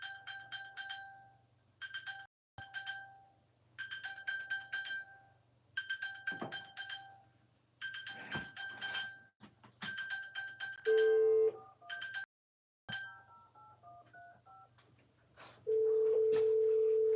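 Mobile phone ringtone playing a repeating electronic bell-like melody in bursts, then shifting to a different beeping tune with a steady sustained tone at the end, fairly loud and close with no talking.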